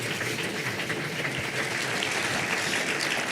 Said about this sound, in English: please give them a round of applause because they've come all the way from Colombia